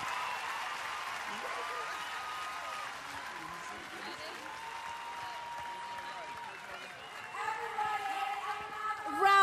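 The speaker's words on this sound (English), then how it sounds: "Give him a round of applause." Large audience applause honoring Nelson Mandela at a T4 event, a dense, steady wash of clapping and crowd noise lasting throughout, swelling louder near the end with cheering.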